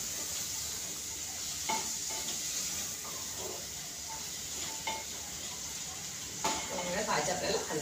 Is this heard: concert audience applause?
no